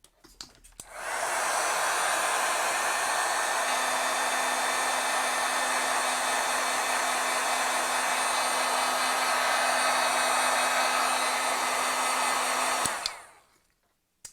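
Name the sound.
heat tool heat-setting wet ink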